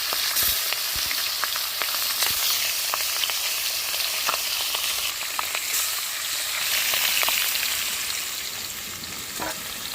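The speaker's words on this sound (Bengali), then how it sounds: "মাছও দিয়ে দিচ্ছি আস্তে আস্তে করে ভাজা হবে" Steady, dense sizzling of rohu fish frying in hot oil over a clay stove, with crackles and small pops throughout, close and continuous with no talking.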